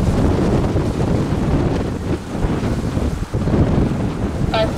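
Strong gusting wind at Madeira Airport during plane spotting, buffeting the microphone in a loud, continuous roar that fills the whole stretch with rumbling turbulence.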